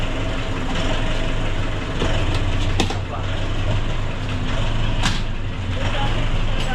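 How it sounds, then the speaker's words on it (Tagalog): Nissan NV350 van engine idling roughly with low power and fuel knock, a steady low diesel rumble that rises and falls slightly, with people talking nearby. "meron tayong NV350 na ang idling daw niya naghihinga-hinga"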